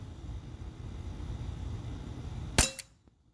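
A single sharp shot from a Glock 17 Gen 5 T4E .43 caliber air pistol cracks out loudly after a few seconds of steady background hiss, followed by a quick echo and a fade to near silence.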